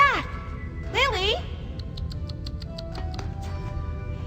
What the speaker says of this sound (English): That goddamn cat is nuts!